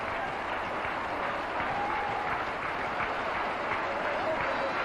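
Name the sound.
cricket crowd applauding a wicket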